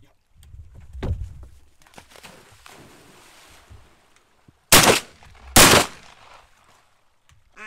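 Two loud, close shotgun blasts ring out a fraction of a second apart while shooting at ducks over a pond on opening morning of duck season in New Zealand, following softer earlier sounds and faint background noise.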